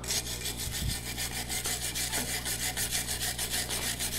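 A stainless steel wire brush scrubs loose rust and scale off a metal surface in steady, rhythmic back-and-forth strokes, close and moderately loud.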